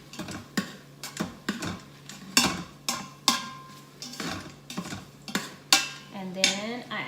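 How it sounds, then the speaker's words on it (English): Seasoned taco meat is stirred in a pot: a spoon scrapes and clinks against the metal in a regular series of strokes, with a faint sizzle underneath and no talking. "So I will add that and then stir it up really good."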